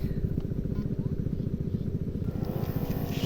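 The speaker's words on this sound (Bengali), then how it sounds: "এবার মেশিনটা স্টার্ট করে নিই" A small engine-driven machine used for watering a flower field runs with a steady, rapid low putter, close and fairly loud throughout the short stretch.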